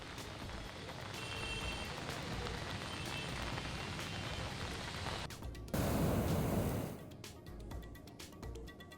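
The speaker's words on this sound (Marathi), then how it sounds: "नाशिक जिल्ह्यात पावसाची दमदार हजेरी." Continuous heavy rain hiss in Nashik district at moderate level, broken by a brief louder burst of noise before settling back to a quieter patter.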